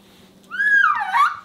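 A person whistles in imitation of an ocellated turkey call: one short, close, warbling whistle with a rising then falling pitch, lasting about a second, over a quiet background.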